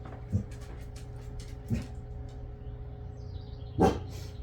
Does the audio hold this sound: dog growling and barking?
yes